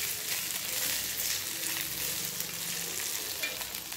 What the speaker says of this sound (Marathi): आणि यामध्ये आता लसूण घालायचं आहे, छान असं परतून घ्यायचं आहे।